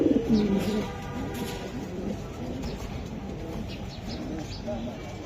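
Racer pigeons coo in a steady low murmur from several birds nearby, with a louder coo at the start over background chatter and room noise.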